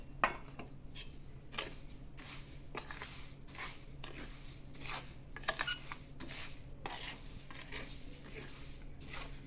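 Licorice powder from crushed root being stirred together with curry leaves for mukhvas mouth freshener, giving soft repeated scraping and rustling strokes with light clinks throughout, close and quiet, with no speech.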